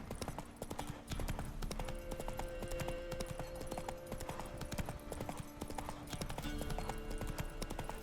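Horse hooves clip-clop steadily under in-game music as a rider travels through The Witcher 3: Wild Hunt, the footfalls close and continuous throughout.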